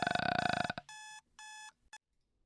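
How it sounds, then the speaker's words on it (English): A video game alarm clock in Doki Doki: Within rings loudly and alone: a dense buzzing ring, then two shorter electronic bursts separated by brief silence. "So I'm forced to wake by the sound of my alarm."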